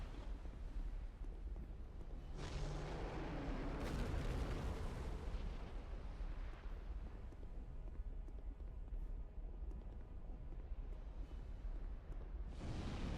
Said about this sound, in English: It's meant to be like a fire breath.